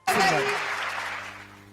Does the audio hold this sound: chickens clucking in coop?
no